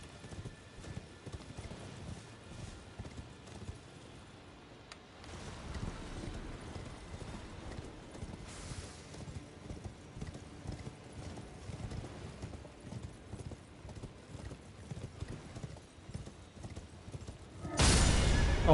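Rhythmic clip-clop of horse hooves galloping in the video game Elden Ring, steady and moderately loud throughout, with a brief neigh and a sharp louder burst at the end.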